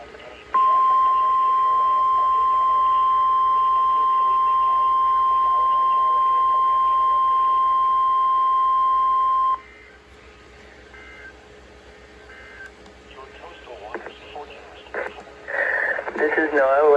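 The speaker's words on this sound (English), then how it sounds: "The preceding signal was a test of the public warning and alarm for transmitters in the Florida listening area" A NOAA Weather Radio Emergency Alert System test for Florida transmitters, beginning with a steady, loud attention tone that runs for about nine seconds and then stops, followed by quieter broadcast audio with bursts of noise near the end.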